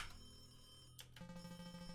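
A telephone rings in the horror video game The Creepy Syndrome, a repeated electronic trill carried over a low background hum, with no talking.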